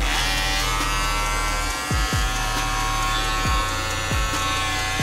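Andis Masters electric hair clippers buzzing steadily up close, with a few brief dips and bumps as the motor load changes, no talking.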